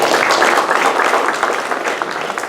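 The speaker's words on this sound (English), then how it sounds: "give him a round of applause" A brief round of applause for a high school football coach at a Class 3A championship preview. The clapping is loud, close and dense, with a crisp patter over the short span.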